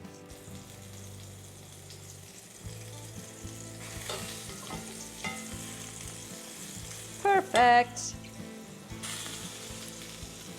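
Steady close sizzling of chicken breasts frying in a pan, with soft background music and a brief spoken word partway through.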